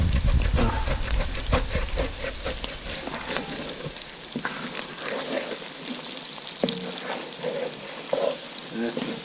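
A spoon scrapes sticky browned bits from the bottom of a pot of red beans with sizzling oil and seasonings. The scrapes come in repeated strokes, close and clear over a constant frying hiss.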